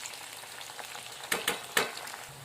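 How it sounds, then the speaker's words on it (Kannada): Oil heating in a pan, with potatoes already in, gives a quiet steady sizzle punctuated by a few close, sharp stirring clatters. "ಇವಾಗ ಎಣ್ಣೆ ಕುದ್ಲಾಗತ್ತಲ್ರಿ."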